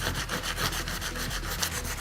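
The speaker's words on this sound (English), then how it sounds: "So we just want to keep sanding until it's perfectly smooth and there's no trace of those ridges left." Sandpaper rubbed back and forth over a ridge of cured resin, a close, steady scratchy rasp in quick, even strokes.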